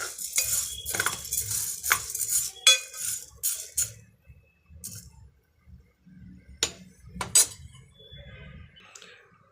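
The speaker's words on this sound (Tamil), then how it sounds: "இதை கொஞ்சம் அப்படியே வறுத்து கொடுத்துக்கலாம்" A utensil scrapes and clinks against a pot on the stove while white jowar sorghum is stirred and roasted for popcorn, with irregular close scraping strokes broken by short quiet pauses.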